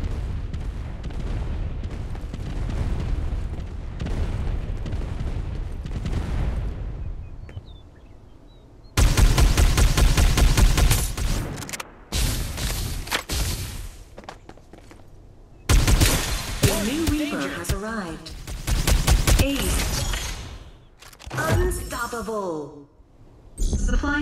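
Gunfire and explosions from a Farlight 84 mobile battle royale squad match in Sunset City: loud, dense bursts of rapid shots and heavy booms that come in waves, broken by brief quieter gaps.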